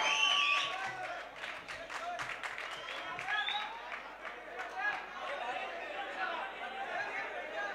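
An audience at a mushaira poetry gathering in Malegaon, India claps and chatters, scattered applause mixed with crowd murmur and a few voices, moderately loud throughout.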